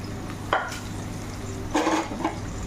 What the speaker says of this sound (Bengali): এদিকে আমি বেরেস্তার জন্য পেঁয়াজগুলোকে ভেজে নেবো